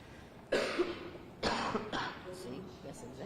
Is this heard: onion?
no